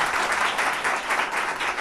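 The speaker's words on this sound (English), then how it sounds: "Applause, thank you." A studio audience at a quiz show applauds briefly, steady close clapping throughout the short stretch with no talk.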